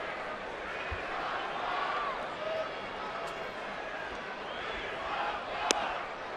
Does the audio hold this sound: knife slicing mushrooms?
no